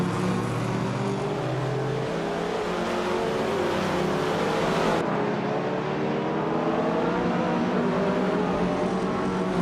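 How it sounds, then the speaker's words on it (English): A classic 1985 Lancia Delta S4 Strega race car holds a continuous engine drone at a race start, with a steady pitch that shifts partway through, loud and unbroken with no talking. "Missed 149 is starting in pole position, driving a classic 1985 Lancia Delta S4 Strega.0"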